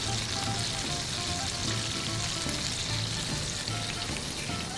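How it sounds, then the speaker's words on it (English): White wine goes into a hot pan of short ribs, giving a continuous loud sizzle and bubbling hiss that holds steady throughout. "So in goes the white wine."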